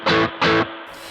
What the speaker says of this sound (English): Now, a sensible level for a spring reverb is probably about 3 seconds.